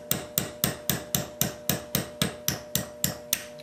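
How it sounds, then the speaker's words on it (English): A hammer drives a roll pin punch to push a pin down through a pistol slide, with about thirteen evenly spaced, sharp metallic taps close up in a steady rhythm, alone with no talk. "we'll punch this pin straight down through the slide"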